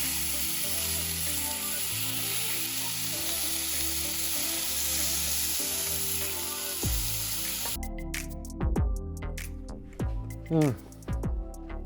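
Expensive Costco steak cooking on a stovetop, a loud steady sizzle and spatter up close, giving way near the end to clattering handling sounds and a voice briefly speaking.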